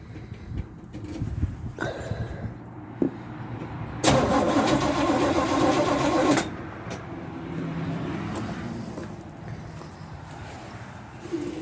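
A 1967 Chevelle with freshly rewired ignition and distributor cranks for a couple of seconds, then its engine catches and roars loudly before settling into a steady idle, heard up close.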